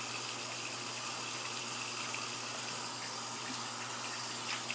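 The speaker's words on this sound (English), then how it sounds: "So I'm just going to wash my face off." Water running steadily from a tap into a sink while someone washes their face, a continuous close hiss alone with no talk.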